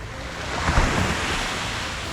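Ocean surf rolls in at Speightstown, Barbados, a steady broadband wash with a slight swell midway, joined by light wind noise on the microphone and no voices.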